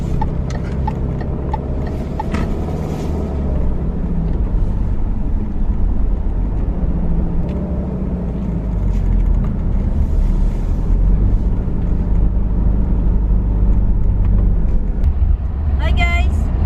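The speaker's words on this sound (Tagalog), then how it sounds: "Yung traffic, okay man siya. Daming sasakyan" Road traffic with many vehicles makes a continuous low engine rumble and road noise, with voices talking over it.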